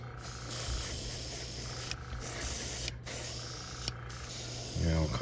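A topwater popper fishing lure being spray painted hot pink, a steady close hiss of aerosol paint running in long bursts with brief pauses between passes.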